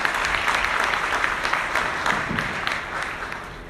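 An audience at an equity workshop in Newark, New Jersey applauds its panelists, a dense burst of clapping from a roomful of people that fades slightly toward the end.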